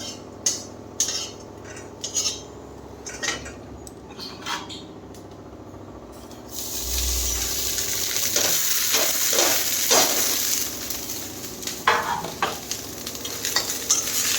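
Rice fried in a little ghee and stirred in a pan, with scattered spoon scrapes and clinks at first, then a steady sizzle rising as frying gets going, with stirring taps continuing close by and no talking.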